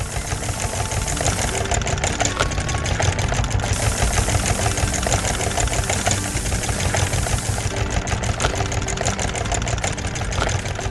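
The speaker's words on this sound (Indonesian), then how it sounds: "Mesin besar sedang mengolah partikel kuning yang menari-nari ke dalam kotak kayu." A big cartoon machine on a farm hums and churns steadily at close range, processing yellow particles into a wooden box with a continuous engine-like drone and rapid mechanical chatter throughout.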